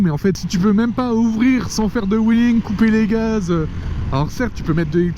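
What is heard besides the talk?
No everyday noise stands out behind the speech.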